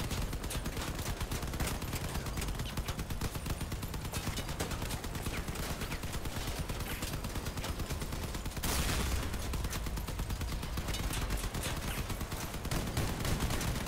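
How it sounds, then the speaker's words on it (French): Dense, continuous gunfire from vehicle-mounted weapons in the vehicular combat game Crossout, a loud rapid rattle of overlapping shots that runs for the whole stretch and swells slightly near the end. "Je lui tire dessus mais il meurt pas."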